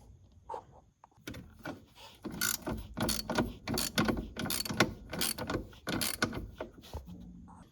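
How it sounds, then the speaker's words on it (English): A ratchet clicks in repeated bursts while the two bolts securing the rectifier to the frame of a Polaris Sportsman 570 are loosened and removed, the close metallic clatter following a short, quiet start. "You want to take your ratchet and take them two bolts out to get it loose."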